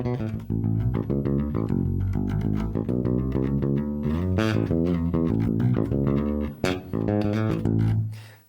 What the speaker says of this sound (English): we've got a little slight displacement of a bass riff that goes like this